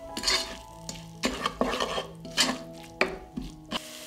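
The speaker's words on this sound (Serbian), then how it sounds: "Dodat ću kašičicu bibera, dodat ću i kašičicu soli i sve ću to promešati." A spoon stirs a teaspoon each of black pepper and salt into softened onions in a pan, giving close, repeated scraping strokes in an irregular rhythm with a faint sizzle underneath and no talking.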